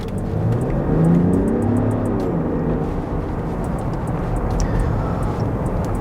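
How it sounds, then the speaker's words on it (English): A 2021 Range Rover Sport HSE with a 3-litre engine accelerates hard, giving a steady, loud low engine roar and rising rev tone that holds throughout with no talking. "So when you stamp on that accelerator,"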